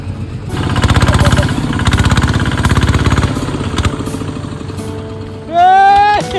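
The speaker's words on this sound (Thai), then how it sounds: "เห็นรถไถดัดแปลงเป็นรถต่อพวงมาลัย ขับเท่ๆซิ่ง ๆ แบบนี้" Modified farm tractor engine converted into a rough hill-country road vehicle, driving uphill in a mountain valley village; a loud, steady chugging mid-pitched engine note dominates, then a sharp rising tonal whine near the end.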